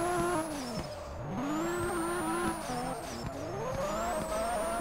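Car drifting and skidding in the Hashiriya Drifter racing game: a steady, loud engine drone rising and falling in pitch, with a long tire squeal running across the whole stretch and no talk.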